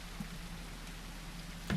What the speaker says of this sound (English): It's just rain noises and chill time